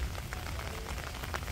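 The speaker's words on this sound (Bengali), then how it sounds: "বৃষ্টি হইতেছে" Steady rain falls in a Bangladeshi village during the rainy season, a soft continuous patter at even level with a few slightly brighter drops and no voices.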